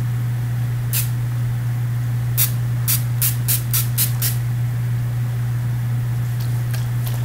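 A makeup setting spray bottle mists in crisp hissing bursts: one lone spritz, then a rapid run of about seven, with faint extra puffs near the end, over a low hum.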